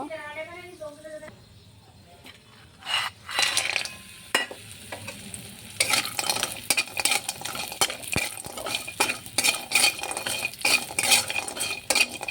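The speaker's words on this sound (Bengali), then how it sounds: "এখন ভেজে নেব মাছের বড়ি। বড়িটা ভেজে নেব।" Urad dal (maskalai) bori dumplings frying in oil in a home kitchen: a steady, close sizzle that swells partway through, broken by scraping and clinking from stirring, with a person speaking near the start.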